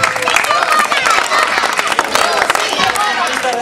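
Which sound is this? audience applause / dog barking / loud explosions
audience applause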